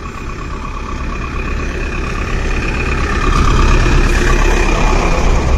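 A motor vehicle, likely a bus, draws near on a road with a steady low engine rumble that grows gradually louder over several seconds, with no talking.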